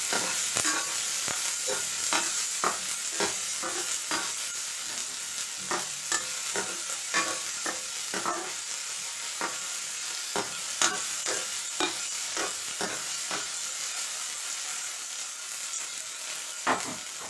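Finely chopped onions fry in a pan for a mutton kidney pepper gravy, giving a continuous sizzle punctuated by regular scrapes and clinks of a spoon stirring throughout, close and fairly loud, with no one talking.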